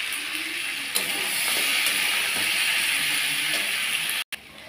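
Drumstick stalks fry in a pan with a steady sizzling hiss, punctuated by occasional sharp scrapes and clicks of stirring, close and continuous.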